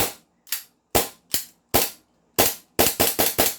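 An HK G28 airsoft rifle fires a sequence of sharp, loud, close single shots, spaced irregularly at first, then a quicker run of four near the end, each with a short decaying tail and no talking.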